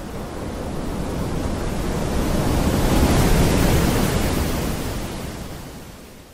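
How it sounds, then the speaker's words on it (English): Generated ocean wave ambience brings a single broad surf swell that rises gradually to a peak midway and then eases off, a steady noisy wash with no voices. "I will use Ocean Wave for the prompt."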